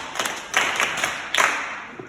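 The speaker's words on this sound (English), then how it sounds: "Clap for her." An audience claps together in a short burst of applause, fairly close, with irregular overlapping hand claps and no talking over it.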